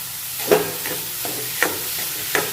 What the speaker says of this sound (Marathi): पनीर ॲड केल्यानंतर हे सगळं मिश्रण परत एकदा परतून घ्यायचं आहे.